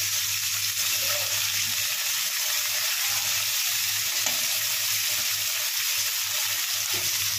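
Mixed vegetables including potato and cauliflower are fried with spices in oil, giving a steady close sizzle with faint stirring scrapes throughout and a constant low hum underneath.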